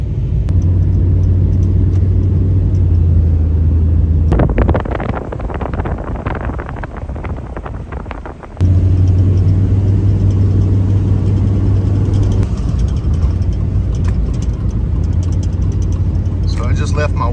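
A car drives through snowy Anchorage, Alaska, its steady engine rumble and road noise carrying throughout with gusty wind buffeting in the middle stretch, and someone talks over it.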